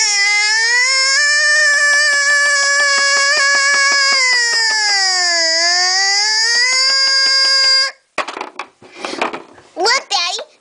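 A voice imitates a tornado siren with a loud, sustained wailing tone that rises and dips for about eight seconds, followed by brief rustling and short vocal sounds.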